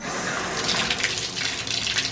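A bathtub faucet in a Kentucky Airbnb bathroom runs with low pressure, giving a continuous hiss and splash of water, close by and steady, with no talking.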